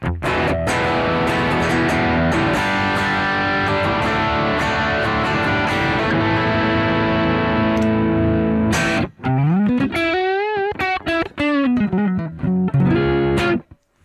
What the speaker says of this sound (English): it's got a TKI Mobster distortion on that Vibroverb amp